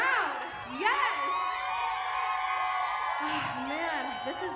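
Near-continuous cheering and whooping rise from a big crowd at a unity march concert on the National Mall, with a singer's voice talking through the middle of the sustained roar.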